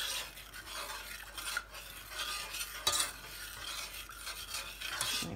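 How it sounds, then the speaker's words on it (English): A spoon stirs soft brown sugar into a pan until it dissolves, a faint steady scraping and rubbing that continues quietly throughout with no voices. "add the 115 grams of soft brown sugar or caster sugar if you don't have that, and just stir it in until it dissolves"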